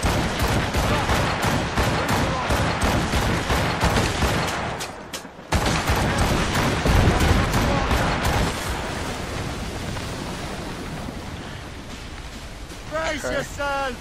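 Ship cannons fire in Assassin's Creed Rogue with a dense, rumbling barrage of booms and crackling blasts over wind and sea, fading into a roaring wash as a voice speaks.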